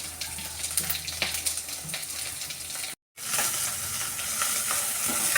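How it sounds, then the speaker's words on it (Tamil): Onions sizzle and fry in a pan for an egg curry while being stirred, a steady crackling hiss with scraping strokes and one short dropout, with no talking. "இப்போ எல்லாத்தையும் போட்ட பொருளெல்லாம் கிண்டி விட்டுக்கிறோம்."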